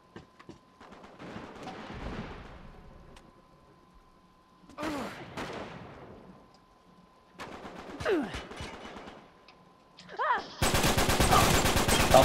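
Gunfire in a competitive online shooter match from a Latin tournament, with bursts of shots and busy game effects rising to a loud, dense barrage at the end, under excited talk.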